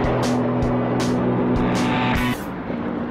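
A loud, throaty Corvette engine roars steadily at high revs, with a sharp shift in pitch near the end as the throttle eases.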